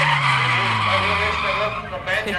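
Drift car sliding toward a cone with tyres skidding, then braking near the end to stop close to the card table during a drift table game; a continuous loud tyre scrub with a falling engine tone, and voices faintly present.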